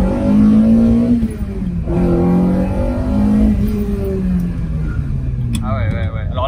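Ferrari 308 GTB Vetroresina engine accelerating on a test drive, loud rising revs climbing through gears with shifts between pulls, heard close from inside the car.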